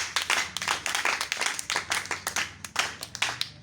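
A congregation at a church service claps loudly and steadily in a dense, rhythmic burst of many hands, with some faint voices underneath.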